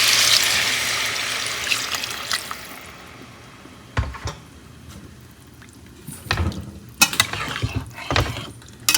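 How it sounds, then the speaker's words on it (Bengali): Water poured into a pan of fried paneer curry, a hiss that fades early, followed by liquid splashes and a few knocks and clatters of utensils nearby. "পনিরটা ভালো করে কষানো হয়ে গেছে, এবার এর মধ্যে দিয়ে দিচ্ছি জল"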